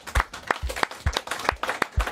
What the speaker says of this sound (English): And deserves a round of applause, I think.